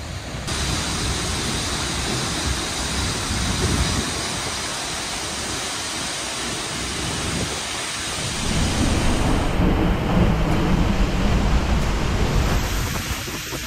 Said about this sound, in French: la cascade elle est juste derrière, c'est assez impressionnant